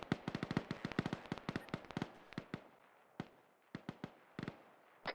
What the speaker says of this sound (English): Would like to report, sir, that was another tripwire flare.